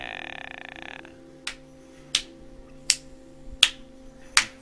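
Five sharp claps at a slow, even pace in the video game Condemned, each a crisp isolated snap, following a short electronic buzzing tone at the start.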